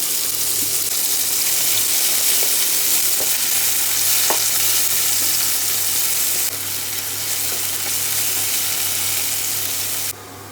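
Onion frying in oil with whole cumin seeds and chilli, a steady broadband sizzle running loud and constant throughout, with a few faint clinks of stirring and a drop in level near the end.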